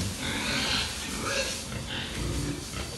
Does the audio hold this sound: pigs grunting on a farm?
yes